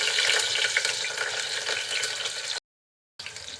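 Chopped onion and green chili fry in hot cooking oil, giving a loud, steady hiss and crackle that cuts out briefly and then resumes, with no voices.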